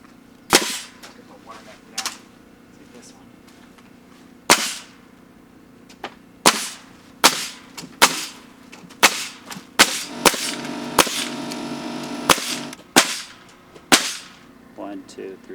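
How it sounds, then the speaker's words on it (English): A pneumatic nail gun driven by an air compressor, with a generator running nearby, fastens wooden garden beds outdoors: about fifteen sharp, loud pops at irregular intervals, some in quick runs, over a steady low motor hum. "Let's get the generator fired up again, this time with the air compressor, and we're gonna be using the nail gun on these beds."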